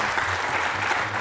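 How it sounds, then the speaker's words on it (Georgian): A studio audience claps for both teams at the end of a televised book quiz game, a brief, dense, even burst of applause with nothing else heard. "აპლოდისმენტები ორივე გუნდს."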